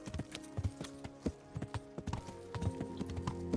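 Horse hooves clip-clop steadily in Kingdom Come Deliverance, a close, irregular trotting rhythm of sharp hoof strikes with no talking.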